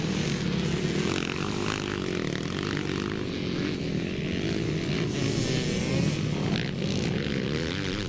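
Motocross bikes race on a wet, slippery track, a 2-stroke Suzuki and a Honda CRF 450 among them. The engines roar continuously in a dense wash of revving, rising and falling without a break.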